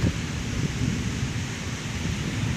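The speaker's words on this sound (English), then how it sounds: "And here comes the gust of wind." Wind roars steadily in a tornado-warned storm in Maryland, buffeting the microphone with low rumbling gusts, with a stormy wash of noise throughout and no voices.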